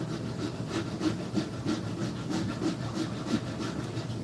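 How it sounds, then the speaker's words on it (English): A small, cheap hand rasp files across wood in quick, even back-and-forth strokes, about three per second, rasping close and fairly loud without any talking. "This is a nice little rasp."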